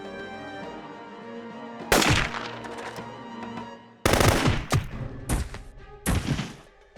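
Bursts of automatic fire from an H&K G3A3 rifle in the video game Jagged Alliance 2, loud and close, coming in three or four clipped rapid volleys separated by brief pauses.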